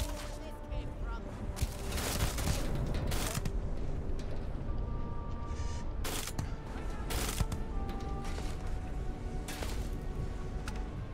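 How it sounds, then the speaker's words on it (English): Enemy gunfire in Starfield comes as repeated sharp cracks and bursts, some close and loud, over a busy layer of game effects and mechanical clatter, with someone talking now and then. "Where's the other one shooting me from?"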